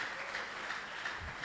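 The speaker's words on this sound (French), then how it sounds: "Alors nous allons applaudir pour l'apôtre Christophe là qu'il est." A church congregation applauds an apostle during a sermon, a short burst of steady clapping heard from across the room at a low level.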